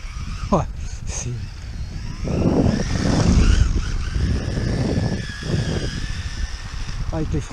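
An HPI RS4 RC car on tarmac tires, running a 2S brushless setup with a 120 amp controller, slides out under hard braking. A high electric whine mixes with a rushing tire-scrub swell, and voices talk throughout.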